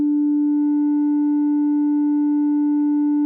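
A DRC software synthesizer plays a ring-modulated tone with the noise turned down, a single steady, loud buzzing pitch held unchanged for several seconds.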